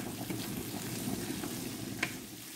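Squid cooks over medium heat with black pepper being stirred in, giving a soft, steady frying hiss close by and a single distinct utensil tap near the end.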